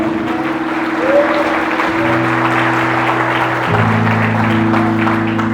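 A church congregation applauds over sustained organ or keyboard chords, a steady wash of clapping holding at even loudness throughout with the music shifting pitch beneath it.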